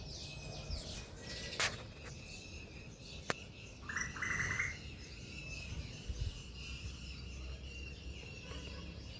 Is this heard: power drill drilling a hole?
no